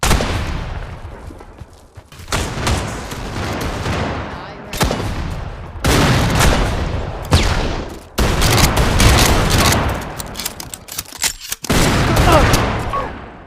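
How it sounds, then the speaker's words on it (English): A shotgun firing slug rounds in a video game sounds out as repeated loud blasts in separate bursts with brief gaps between them, under some talking. "Here, use the shotgun. It's OP. It uses slug rounds."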